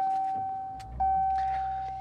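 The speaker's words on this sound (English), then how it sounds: "the vehicle has a traditional starter noise, and that's because this is not a hybrid or mild hybrid" Starter cranking on a 2025 Ram 1500 Tungsten twin-turbo pickup, a conventional non-hybrid start: a brief mechanical whir that catches into a steady engine idle, heard up close from the cabin alongside a constant chime tone.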